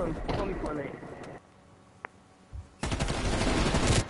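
Bursts of rapid gunfire in the Fortnite video game, a dense volley at the start and another sustained burst at the end, separated by a quieter gap with a single sharp click, loud and close.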